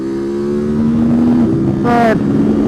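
Ducati SuperSport motorcycle on a track, engine droning steadily then a quick upshift with a sharp rising rev burst near the end, heard close with wind noise.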